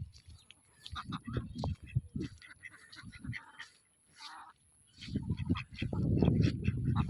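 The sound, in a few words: ducks quacking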